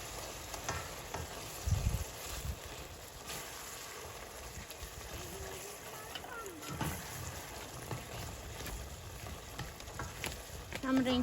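Food sizzling in a frying pan with tomato paste being stirred in, a steady crackle with scraping stirs, while someone talks over the cooking.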